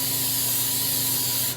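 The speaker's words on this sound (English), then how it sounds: "lightly spray a bowl" Pan spray is sprayed into a bowl in a bakery setting while preparing a yeast-raised dough: one continuous close, loud hiss lasting just over a second, then a quick cutoff.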